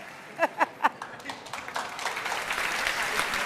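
Studio audience applause greets Shahzad Poonawalla on a televised political debate show, swelling into steady broad clapping after a brief spoken introduction with a few sharp accents at the start.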